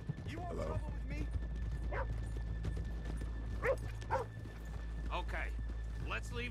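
Horses in Red Dead Redemption 2 snort and whinny with scattered hoof clops, near and moderately loud over a constant low hum.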